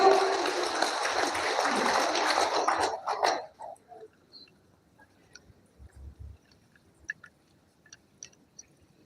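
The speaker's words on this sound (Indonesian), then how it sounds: "Tepuk tangan dulu Bapak Ibu" Audience applause at a formal clan association assembly, a dense crowd of clapping for about three seconds that stops abruptly and leaves faint scattered room noise and small knocks.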